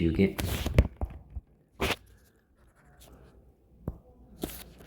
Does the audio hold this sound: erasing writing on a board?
yes